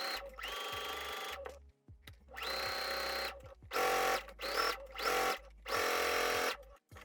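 Sewing machine understitching the lining of a cap sleeve, running in several loud bursts of rapid stitching separated by short pauses, close up with no talking.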